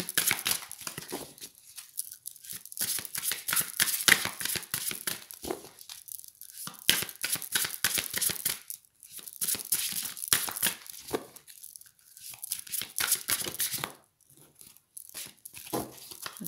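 A deck of cards is cut and handled close up, giving a dense run of papery riffling, crinkling and slapping sounds in bursts, with short pauses and a quieter stretch near the end.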